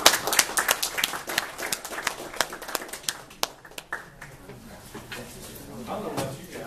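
An audience at a pitch contest applauds a presenting team with a burst of close, sharp handclaps that thins out, and people talk under it.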